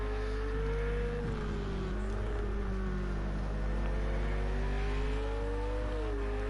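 A Lamborghini race car engine from a racing video game drones loud and close as it pulls away on a straight, its pitch rising and dipping with gear changes over a constant low rumble.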